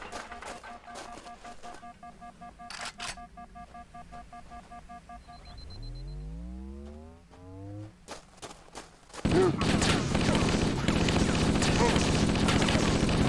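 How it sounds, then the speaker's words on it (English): Video game gunfire in Halo: Combat Evolved on Legendary difficulty, a dense, loud continuous barrage near the end that follows quieter electronic tones and sweeping game sounds. "Stop shooting."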